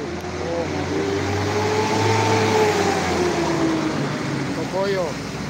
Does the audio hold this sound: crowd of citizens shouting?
no